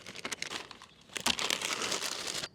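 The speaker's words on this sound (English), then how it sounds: "And now I can trim off the excess with a Stanley knife." A Stanley knife trims excess cover material off a hoop house frame over a raised bed bath, producing crinkly tearing and cutting sounds in uneven bursts, close and fairly quiet, with a louder stretch in the second half.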